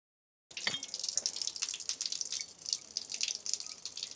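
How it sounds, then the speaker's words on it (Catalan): A water tap runs in a village setting while water is filled, a steady splashing gush with small spatters that starts suddenly after a moment of silence and carries on without talk. "Bueno, hem omplert una mica d'aigua i cap a Argelita."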